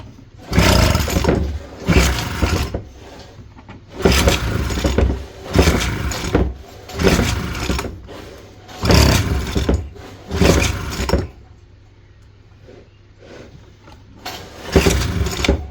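A vintage Aquascooter AS-500 two-stroke water scooter engine, flooded and running on choke, is pulled over repeatedly: about eight loud rasping bursts of cranking and sputtering, separated by short pauses and one longer quiet gap.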